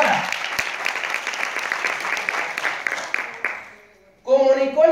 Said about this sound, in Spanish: Des un fuerte aplauso por eso.